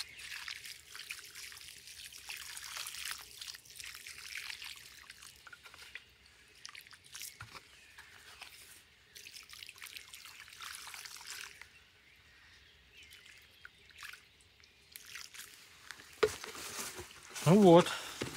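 Water poured onto black soil in a small garden plot, a soft steady trickling that runs for a long stretch, with a voice briefly speaking at the end.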